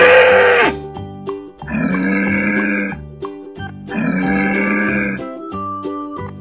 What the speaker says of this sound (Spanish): toro.